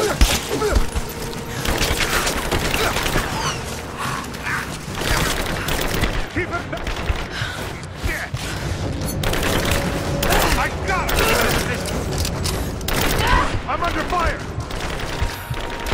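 Sustained, loud gunfire from Rise of the Tomb Raider, with dense rapid bursts and booming shots rolling continuously as enemy soldiers shout over the firefight.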